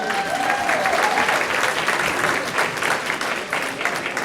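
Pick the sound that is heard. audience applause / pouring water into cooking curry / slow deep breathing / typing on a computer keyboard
audience applause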